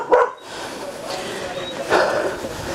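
A small puppy yips and barks briefly near the start and again about two seconds in, the short bursts close by and mixed with people talking around it.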